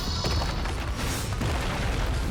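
A Soul Bomb special attack from the Bleach Brave Souls video game erupts as a dense, continuous roar of booming explosive game effects with layered crackling bursts, loud and sustained for a couple of seconds.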